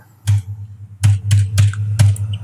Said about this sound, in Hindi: एंटर प्रेस कर दीजिए।